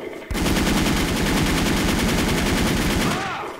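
Automatic gunfire in the Wolf Team online shooter: one loud, rapid, evenly spaced burst of close shots that starts abruptly and holds for about three seconds before cutting off.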